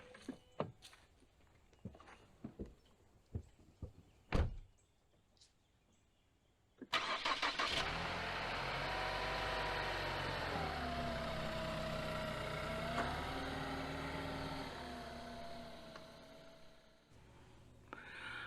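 A car engine cranks and catches after a few light clicks and knocks, then idles and revs steadily at close range as the car is moved, fading slightly toward the end.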